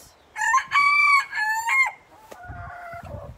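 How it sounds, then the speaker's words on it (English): A small serama cockerel crows close by, loud and alone: a long rising call with a clear, harmonic-rich tone, a short break, then a second phrase, followed by softer clucking. "Yep, a cockerel serama."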